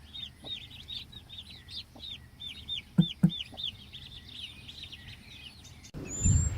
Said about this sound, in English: Here you can see the broody hen with her chicks after 2 days.